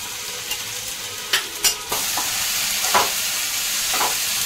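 Cumin and coriander spice paste, stone-ground on a grinding slab, fries in oil with a steady close sizzle, and a few sharp scraping stirs land in the first two seconds.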